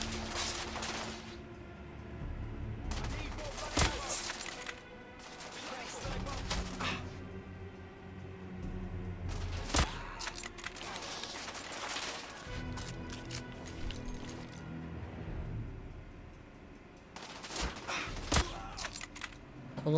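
Gunfire from the third-person shooter The Order: 1886, set in a London hospital, comes in repeated loud bursts of rapid shots separated by short pauses, with clattering impacts between volleys.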